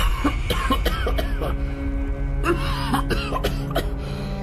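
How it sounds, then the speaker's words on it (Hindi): A man in a cartoon story coughs hard and repeatedly while choking, a rapid series of loud, harsh, close coughs with short gasps between them. "तभी उसका दम घुटने लगता है और वो जोर जोर से खांसने लगता है।"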